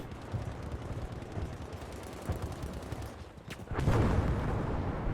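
Type 99 Arisaka rifle fire in the World War II shooter Battlefield V amid battle noise, a dense rumble of distant gunfire with a sharper loud shot near the end.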